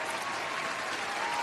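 Steady applause from a crowd, played as a sound effect for Cardi B, continuous and fairly even throughout, with no voices over it.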